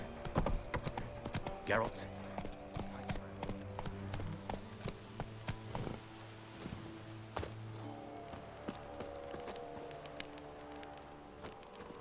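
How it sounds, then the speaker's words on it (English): Roach the horse's hooves clip-clop at a steady gallop in The Witcher 3, a brisk rhythmic patter running under game music and a voice talking. "Run, Roach."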